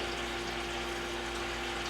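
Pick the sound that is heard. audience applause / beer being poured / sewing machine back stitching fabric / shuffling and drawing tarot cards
beer being poured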